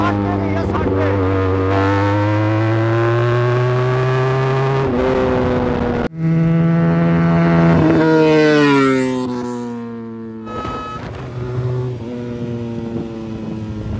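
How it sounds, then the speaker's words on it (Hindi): A heavy motorcycle revs hard and climbs through its gears during a top speed test, the engine note rising in long sustained pulls. It stays loud and close throughout, with a brief gap near the middle and the roar easing off toward the end. "अब देखता हूँ मैं कहाँ तक खींचता हूँ ये वाली बाइक को। अब ट्राई करनी है 100 तक जाए।"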